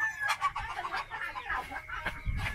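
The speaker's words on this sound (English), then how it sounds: "they finally chased the rooster away" Chickens and a rooster cluck and call in a Vietnamese countryside yard, faint and close-ish, with a scuffle of fowl noises over quiet outdoor background.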